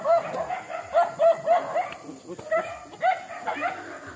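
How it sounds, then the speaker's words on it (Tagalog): A dog outdoors barks and yips repeatedly in quick bursts, fairly close, over a busy background hum while someone walks. "Ala, may aso."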